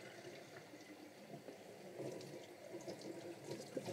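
Water runs and splashes while a pet water bottle is rinsed out during algae cleaning, a soft continuous trickle and gurgle nearby at low volume.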